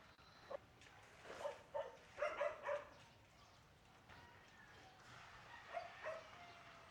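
A dog barks and yips in several short bursts, moderately near, with a quieter whimpering yelp near the end, heard over faint outdoor background.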